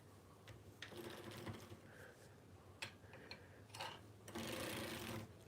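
A circular sock knitting machine is cranked forward, giving a close, quiet run of rapid mechanical clicking and ticking in uneven bursts, with no talk.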